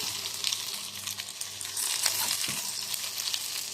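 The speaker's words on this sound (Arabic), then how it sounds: "هنقوم نازلين بالسجق بتاعنا اتشوح بقى كله مع بعضه كده اهو" Sausage with onion, garlic and peppers fries in a pan, producing a steady close sizzle broken by stirring scrapes and brief pops, with no voices.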